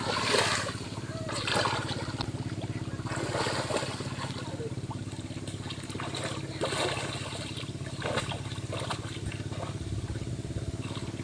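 Water splashing around someone bathing in cold water outdoors, steady churning and sloshing with occasional louder splashes against a constant low rumble of background noise, continuing throughout.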